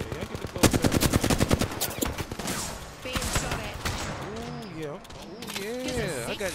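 Loud, close bursts of rapid automatic gunfire in the Apex Legends battle royale game, dense volleys at first, then scattered shots while someone talks over them.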